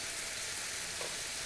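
Ground meat for shepherd's pie browning in a pan, a steady soft sizzle and crackle with a light stir near the end, no voices.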